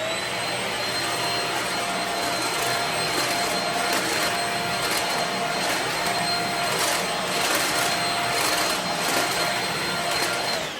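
A Shark Rocket HV301 corded vacuum cleaner runs steadily on hard floor tiles, giving a loud, continuous high-pitched motor whine with a constant airflow roar that holds unbroken throughout, with no talking.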